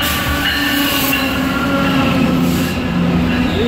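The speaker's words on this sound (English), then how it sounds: "You hear it? Go train." A GO Transit commuter train rumbles past close by, loud and steady, with metallic wheel squeals and rattling cars.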